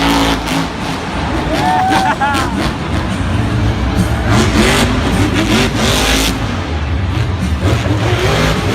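The Son-uva Digger Monster Jam truck, a blue and black machine at a Tampa stadium event, revs hard with a roaring engine amid crowd noise and commentary spoken over it.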